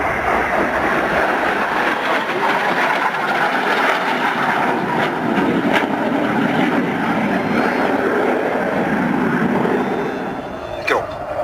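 A Saab 32 Lansen (J 32B), a historic Swedish Air Force jet, flying a display at the 2006 Dalajärna airshow: a loud, sustained roaring jet noise throughout, easing slightly near the end.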